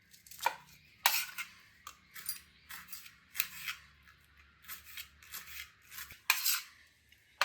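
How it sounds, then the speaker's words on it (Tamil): A knife finely chops green chillies on a cutting board for soya chunk vadai, giving a close series of sharp, irregular taps with short pauses between them. "இதுக்கு பச்சை மிளகாய் நல்லா பொடியாக கட் பண்ணிக்கலாம்."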